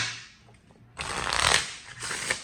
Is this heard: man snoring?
no